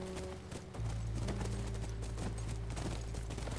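Horse hooves clip-clop steadily in The Last of Us near a ranch, a continuous trotting rhythm over a dense, loud game soundscape.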